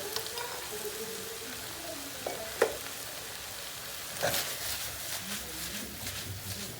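Onions with red pepper powder, black pepper, pepper flakes and cumin stirred in a frying pan, a steady sizzle broken by a few scraping and clattering stirs, with faint voices in the background.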